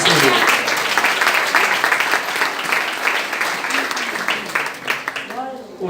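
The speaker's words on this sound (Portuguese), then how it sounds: "Uma salva de palmas para o Senhor" Congregation applause during a church service, a loud burst of clapping that gradually thins and fades, with a voice starting to speak near the end.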